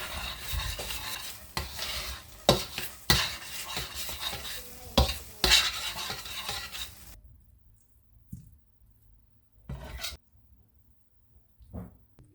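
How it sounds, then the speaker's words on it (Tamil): Thickened milk being stirred in a pan while making palkova: rhythmic, close scraping strokes of a spoon against the pan with a soft sizzle, then several seconds of near quiet with a few isolated scrapes. "இப்போ இது சட்டியில் ஒட்டாமல் பிறழ்கிற வரைக்கும் கிளறி வேறு பாத்திரத்துக்கு மாற்றிக்கொள்வோம்"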